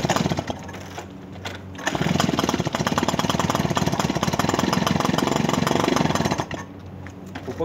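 A Peugeot 205 petrol engine runs close by with a steady, slightly uneven idle, first rough and sputtering, then holding a louder, more even rhythm before easing off near the end.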